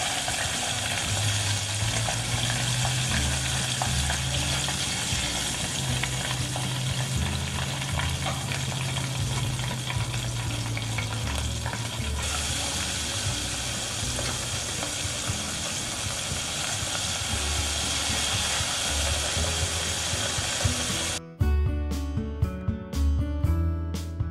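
Blue catfish from Mattawoman Creek fries in a pan with a steady, loud, close sizzling hiss that continues throughout, ending in a few sharp clicks near the close.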